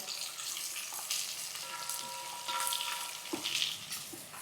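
Thinly sliced onion fries in a pan over a raised flame, a steady soft sizzle with faint crackles and a few light clinks of a spoon against the pan.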